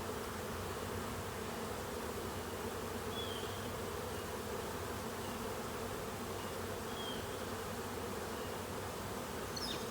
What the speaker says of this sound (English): that is a lot of bees